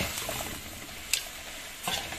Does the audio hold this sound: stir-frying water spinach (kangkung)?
yes